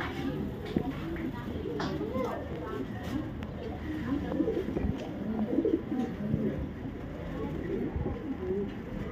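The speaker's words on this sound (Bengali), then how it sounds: "ওটা সিলভার পাঙ্কি নর কবুতর" A silver male racing pigeon coos in soft, rolling bursts among other birds while someone talks over it nearby.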